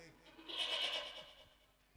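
During a staged religious recitation at an ashram, a voice imitates a goat's bleat: a single wavering, quavering cry lasting about a second, faint and distant-sounding.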